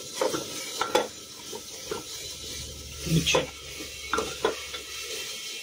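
A utensil repeatedly scrapes and stirs through spices frying in a pot for tehari, irregular clinks and scrapes over a low, steady sizzle.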